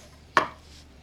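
A knife drawing a slice from smoked brisket, one short, crisp cut heard close and alone against a quiet background.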